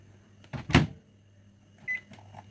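An oven is set to 170 degrees with a close clunk of the door or dial, then a short electronic beep and faint clicks after a brief pause.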